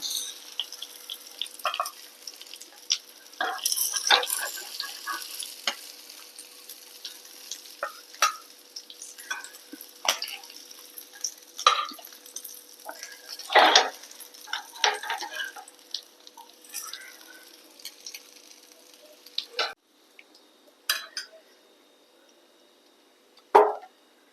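Yellowfin fish (kilimeen) fries in a pan with a soft, continuous sizzle broken by scattered clinks and scrapes of stirring, some sharp and close, with no talking.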